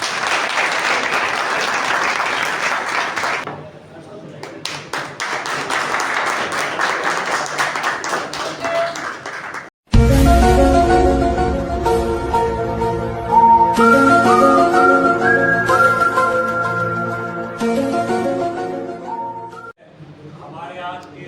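An audience at a bar association gathering claps, a dense roar of applause that swells and dips, then continues under music with a strong melodic line near the end.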